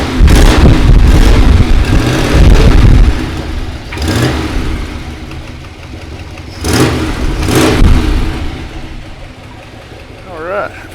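A truck engine with an exhaust leak revs up close in several loud bursts, dropping back to a rough idle between each throttle blip.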